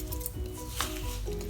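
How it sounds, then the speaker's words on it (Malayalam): A kitchen mixer grinder runs steadily, grinding ragi in its small jar, with a continuous whirring motor hum and a dense, gritty churning. The sound is close and even for the whole stretch, with no voice over it. "ഇത് ഞാൻ ഒന്നും കൂടി മിക്സിയിൽ ചേർത്ത് അരച്ചെടുക്കുന്നുണ്ട്"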